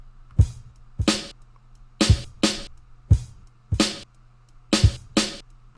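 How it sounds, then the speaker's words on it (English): A boom bap kick and drum pattern, programmed for a hip-hop beat, plays as a steady loop of deep kicks and sharp snare-like hits over a faint background hum, with no voices. "Okay, so we got our kick pattern and our drum pattern."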